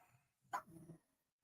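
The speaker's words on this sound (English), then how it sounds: "my dogs are barking" A brief dog bark, a single sharp yelp followed by a lower rough trailing sound, in an otherwise quiet room.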